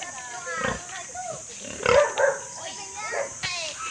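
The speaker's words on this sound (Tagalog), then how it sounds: "Ayan, daming baboy dito." Pigs grunting and snorting nearby in Tanay, Philippines, mixed with a few higher squeals, under steady outdoor background noise with people talking.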